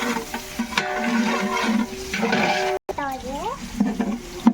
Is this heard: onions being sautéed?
yes